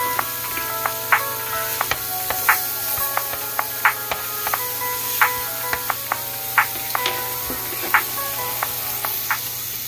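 Papaya pieces sauté steadily in a hot pan with soft, scattered pops and crackles over a continuous background hiss.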